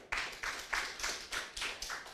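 An audience claps at a radio national reading competition media launch, making a steady, rhythmic run of fairly soft claps that stays even throughout, with no voices over it.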